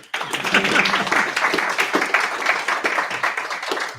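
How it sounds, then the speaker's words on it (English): An audience at an investment group meeting gives a round of applause, brisk and fairly close, with individual claps standing out in a lively, even patter that carries on steadily for several seconds. "You can give her a round of applause if you want."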